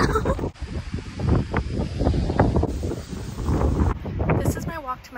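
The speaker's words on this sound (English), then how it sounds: "I'm excited to bring you outside because it's literally so windy. It's 30 mile per hour wind right now." Strong outdoor wind gusting at about 30 mph, roaring and buffeting the microphone as a steady, loud rush with rumbling surges that runs through the whole stretch.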